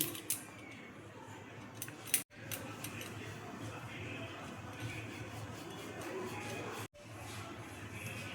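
A rolling pin working aloo paratha dough on a board, giving soft continuous creaking and rubbing with a few brief pauses, fairly quiet and close.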